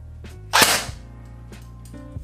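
A Snow Wolf M41A Pulse Rifle airsoft gun fires a single sharp shot, a short crisp crack with a quick fading tail, standing out alone over a faint steady hum.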